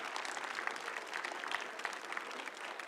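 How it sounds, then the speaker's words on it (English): A City Hall council chamber audience applauds visiting students with steady, moderately distant clapping that holds evenly throughout, with no speech over it. "Can we give them a warm round of applause?"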